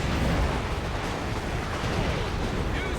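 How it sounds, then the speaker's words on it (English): A crack grenade blows up during a Dawn of War 2 battle between Imperial Guard and Orks, a dense, rumbling blast that stays loud and steady throughout, thick with low booming noise. "The melee commandos, Commando Stabums, chucked a crack grenade on it and down it goes."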